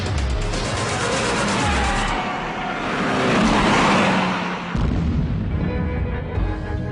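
A Tesla electric sports car accelerates hard, giving a loud, steady rush of road and wind noise that swells in the middle, dips briefly, then carries on close by, with no engine note.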